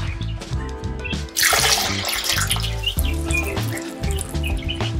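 Water flows and splashes out of a newly plumbed pipe at a hyperadobe outhouse, a close, steady gush starting abruptly after a moment, with birds chirping in the background.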